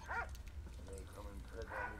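Dog barking in the video game Soldats Inconnus, a few short yapping barks spaced apart, quiet beneath someone talking over the gameplay.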